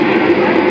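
A Delhi metro train runs with a loud, steady rumbling roar, close and continuous, with no voices.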